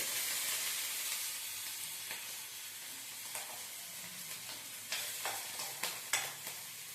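Green chillies frying in hot oil with a little cumin for a bottle gourd dal tempering: a steady close sizzle with scattered spatula scrapes and taps that grow sharper toward the end.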